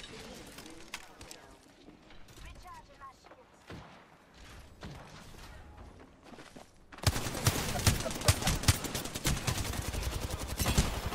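Rapid gunfire from the video game Apex Legends breaks out after a quieter stretch: dense, loud crackling volleys of shots with a voice talking over the action.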